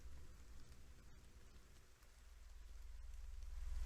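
Steady rain falls in a video game forest, a dense wash of drops on surfaces that holds constant and swells slightly louder toward the end, with no talking.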